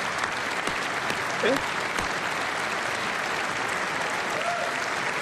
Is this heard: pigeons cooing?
no